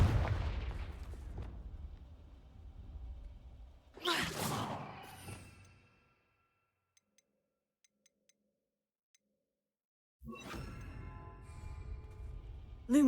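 A Confringo fire spell cast in Hogwarts Legacy: a loud whooshing burst around four seconds, preceded by rumbling crackle and followed by silence, then another bright blast of magical noise near the end.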